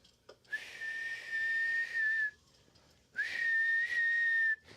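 Two loud, sustained whistles from a person, each holding a steady high pitch for about two seconds, separated by a short pause, with no talking.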